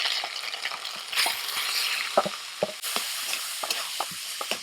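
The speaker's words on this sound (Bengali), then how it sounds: "হালকা করে আদা কাঁচা লঙ্কাটা ভেজে নিই" Ginger and green chilli paste frying in mustard oil, a steady close sizzle broken by soft scraping stirs and light clicks of a spatula against the pan, with no voices.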